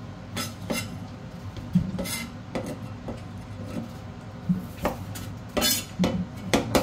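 Kitchen prep of ingredients for chicken tinola with papaya and ginger: irregular knife taps and scraping on a board, with clinks of dishes and utensils, close and moderately loud, no talking.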